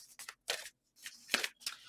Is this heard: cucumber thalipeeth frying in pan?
no